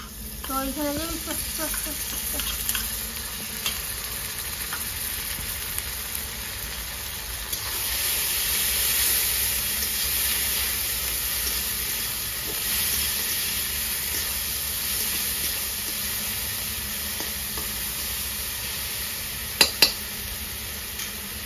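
Ginger garlic paste frying in a pan with chopped onions, giving a steady, close sizzling hiss with occasional stirring scrapes that runs throughout.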